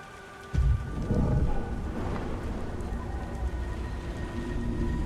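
Steady rain in the video game Beyond: Two Souls, a dense hiss with low rumbling thunder that swells loudly early on and then settles into a continuous downpour, with no talking.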